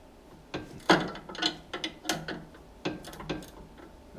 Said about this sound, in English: you're going to have to grab a small wrench and hold the end of the bolt while you loosen it, the nut